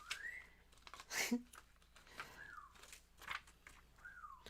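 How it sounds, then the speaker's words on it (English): An African grey parrot whistles in soft rising and falling notes, interspersed with short squawks and clicks, fairly faint in an indoor room. "He's doing his whistling and making a lot of crazy noise."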